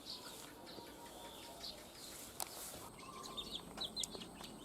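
Village chickens settling into a new coop with a thatched roof, giving soft scattered clucks and chirps at a moderate distance over a faint ambient background.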